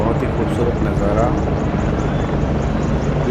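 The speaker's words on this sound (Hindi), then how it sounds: "चारों तरफ से हेलीकॉप्टर्स का उड़ना चालू हो चुका है।" Army helicopters fly over an Army Day parade rehearsal, producing a loud, continuous rotor and engine roar that fills the whole stretch without a break.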